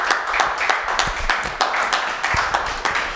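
A church congregation claps together in a steady rhythmic beat, loud and close, with sharp individual claps standing out over the crowd.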